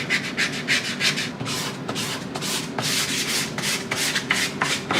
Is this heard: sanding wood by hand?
yes